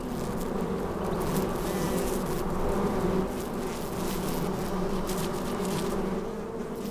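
Desert bees buzz without a break while digging tunnels in sandy soil, a loud, close, dense drone that holds steady for the whole stretch with no pauses.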